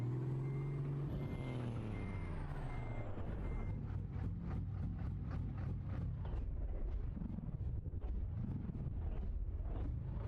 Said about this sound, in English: that truck almost sounds like it's gonna stall